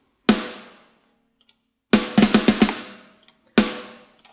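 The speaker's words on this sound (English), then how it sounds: "So we've got snare 5, which sounds like this." Sampled snare drum hits from Slate Trigger with room mics, loud and close: a single crack, then a quick cluster of about five hits, then one more single hit, each ringing briefly and decaying.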